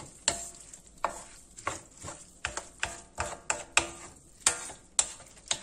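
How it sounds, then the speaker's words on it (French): Paella rice being stirred in the pan makes a series of close scraping and clacking strokes of a utensil, about a dozen in irregular rhythm, over a faint sizzle. "je vais remuer un petit peu et je vais tout mettre"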